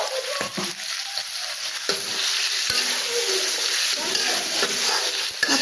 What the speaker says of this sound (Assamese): এইখিনি মই এতিয়া ভাজি ৰাখিম